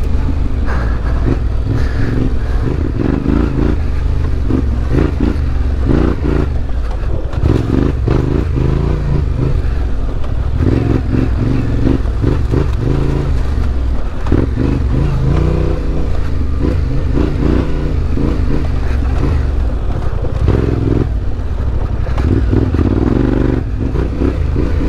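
A Yamaha Tenere 700 adventure motorcycle ridden on singletrack, its engine droning loud and steady throughout with rises and dips in revs and a constant rumble of wind and terrain.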